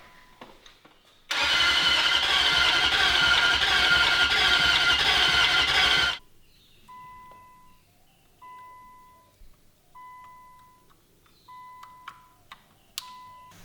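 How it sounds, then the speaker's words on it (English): A Nissan Stagea's starter motor cranks the engine in one loud, steady burst of about five seconds, then cuts off, leaving faint intermittent beeps and ticks in a quiet engine bay. "just about to test the starter motor and the starter circuit"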